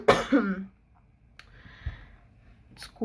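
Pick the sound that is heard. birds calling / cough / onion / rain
cough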